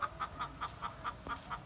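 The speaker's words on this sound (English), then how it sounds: "That's a noisy chicken." A hen clucks in quick, evenly spaced pulses, about eight in a row, close and moderately loud in an outdoor garden setting.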